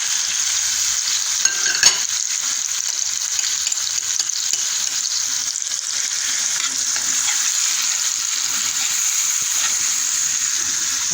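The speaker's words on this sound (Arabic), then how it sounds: "حطيت فيها سمنه على زيت، هنزل بقى هنا بالبصله" Onions frying in a pan of ghee mixed with oil, a steady close sizzle throughout with a brief clatter of stirring near the start.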